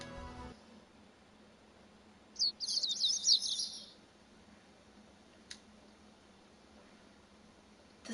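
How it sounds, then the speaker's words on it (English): Birds twitter in a short, bright burst of rapid chirps in a quiet scene from the steampunk video game Code: Realize, followed by a single faint click against low background hiss. "The sound of birds chirping slowly raises me from my dream into consciousness."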